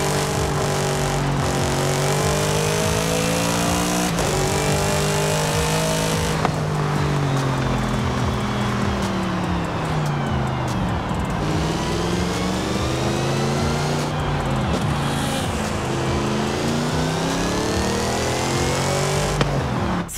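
A powerful supercharged V8 car engine in a video game, about 1000 horsepower, revs up and down repeatedly, its pitch rising and falling in sweeping waves, loud and close throughout.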